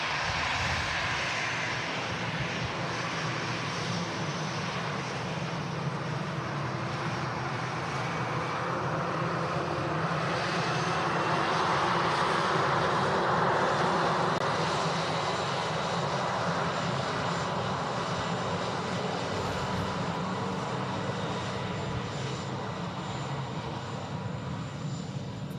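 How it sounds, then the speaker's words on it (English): An EasyJet airliner arrives from Copenhagen at Manchester Airport, its engines producing a steady, broad roar that swells slightly near mid-pass and stays fairly distant throughout. "It's EasyJet from Copenhagen."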